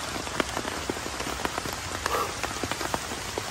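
Rain falling on a mountain camp on Gunung Salak, a steady patter of drops striking surfaces nearby, with individual louder taps scattered through the hiss.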